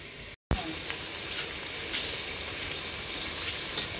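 Onions sizzle in a pan over a high flame while biryani is being made, a steady close hiss of frying that runs unbroken after a brief cut at the start.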